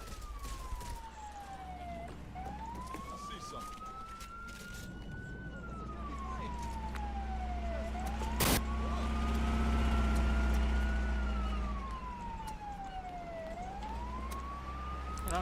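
A wailing police car siren in the Back 4 Blood video game sweeps up and down repeatedly over a low engine rumble, with a sharp bang midway and background game noise throughout.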